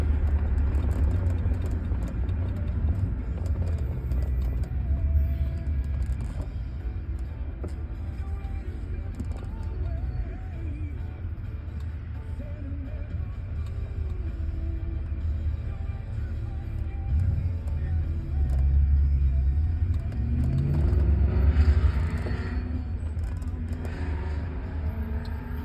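Road noise fills a car driving with its windows down through Charlotte, a steady low rumble and wind wash that swells and eases as traffic passes, with no talk.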